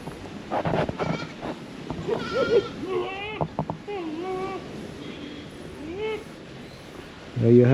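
Two ram goats bleat on a tour in Metcalfe, St Mary, near Annotto Bay, giving several wavering, fairly close calls over wind noise on the microphone, with a little talk mixed in.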